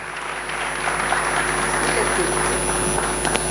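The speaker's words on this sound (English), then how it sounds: "A big round of applause," Applause from a symposium audience welcoming a panelist at a college event, a broad steady wash of clapping that holds at moderate loudness, with a faint hum and some talk mixed underneath.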